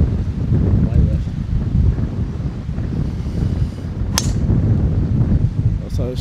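Strong wind buffets the microphone steadily on a golf course at Pacific Golf Club, a continuous low roar lasting throughout with a brief click near the end and no speech.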